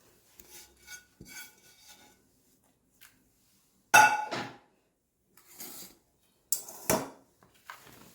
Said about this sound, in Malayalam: ഇതെല്ലാം ഇട്ടിട്ട് നമുക്ക് ഇതൊന്ന് നന്നായി കുഴച്ചെടുക്കാം.